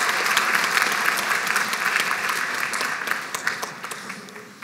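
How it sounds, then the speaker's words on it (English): Sustained applause from a graduation ceremony audience as pharmacy technician graduates leave the stage. The clapping is even and steady throughout, with no talking over it. "One more round of applause as they're leaving the stage."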